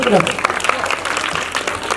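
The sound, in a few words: audience clapping loudly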